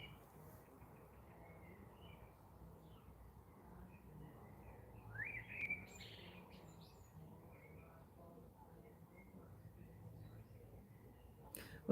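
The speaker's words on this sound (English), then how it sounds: "Listen to the birds" Birds chirping faintly outdoors on a summer morning, scattered thin calls and tweets over a quiet low hum, with one brighter call midway.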